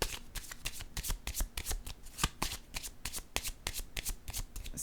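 Tarot cards being shuffled by hand in a run of quick riffling bursts and soft flicks, close and fairly quiet, continuous without talk.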